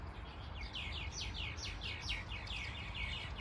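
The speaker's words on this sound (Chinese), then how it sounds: "那树上好多麻雀还是什么鸟，叫得叽叽喳喳的。" Sparrows or similar small birds chirping in a flowering tree beside a road, a quick continuous series of bright tweets at moderate distance over a steady low background hum.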